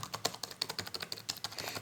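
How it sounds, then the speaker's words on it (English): A Lenovo ThinkPad X220 laptop's classic keyboard being typed on, giving a quick, steady run of close, crisp key clicks with no voices. "So here we go with the classic, and I absolutely love Lenovo keyboard."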